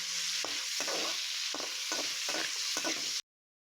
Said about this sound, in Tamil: முந்திரியும் பாதாமும் எடுத்திருக்கேன்